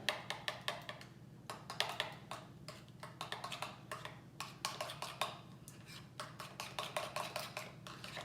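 Pasta being tossed with seasoning in a bowl, giving a steady run of close, light clinks and scrapes of utensil against dish that repeat in quick irregular bursts throughout.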